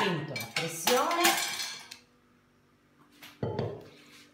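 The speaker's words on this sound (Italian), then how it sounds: "prendiamo la nostra pentola a pressione" A metal pressure cooker pot handled in a kitchen while preparing octopus, giving a few loud clanks and scraping metallic knocks, then a pause and another clatter near the end.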